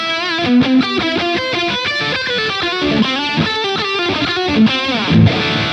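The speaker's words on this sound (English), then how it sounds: "let's put a little bit of delay on it" Distorted instrument or music playback with a delay effect added, repeating echoes trailing each note; steady, fairly loud, with no talking.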